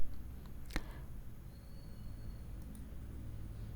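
A single faint mouse click on an on-screen Add Site button, heard once early on and then followed by quiet room tone.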